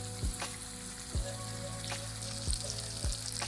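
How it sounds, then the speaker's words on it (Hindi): Onions fry with tomatoes in a pan for green chilli chicken fry, a steady close sizzle broken by a few evenly spaced stirring scrapes, with no talking. "अब हम इसमें प्याज ऐड करेंगे। चंद सेकंड से इसे फ्राई करना है।"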